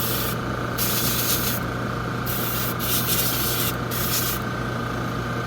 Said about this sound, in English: Talk again here when my compressor stops.